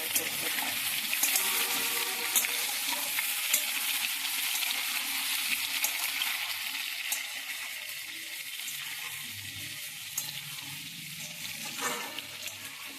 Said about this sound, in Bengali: অল্প অল্প করে দিয়ে ভালো করে নাড়াচাড়া করতে হয়।